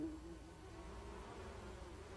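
Honey bees forage outside the hive among flowering plants, a soft steady buzzing drone that carries on evenly through the moment at a faint level.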